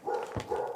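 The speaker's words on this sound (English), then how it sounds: "Bandit barking in the back" Two quick, faint barks from a dog named Bandit in a house, heard at a distance in the background.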